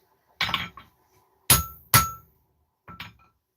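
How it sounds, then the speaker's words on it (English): Four sharp, separate blows from a 3 pound hammer striking material, each a loud ringing crack that fades quickly, spaced irregularly with quiet gaps between them. "I'm actually going to switch to my bit heavier hammer. This guy's a 3 pound."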